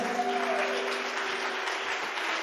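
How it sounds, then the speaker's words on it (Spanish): A church congregation gives a continuous round of applause at a worship service, dense and even throughout. Soft sustained keyboard tones linger beneath the clapping. "dale un aplauso al Señor."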